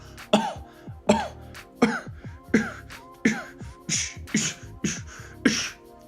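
A series of eight sharp, percussive cough-like bursts repeats at a steady beat, each a quick guttural snap from a voice imitating a snare drum.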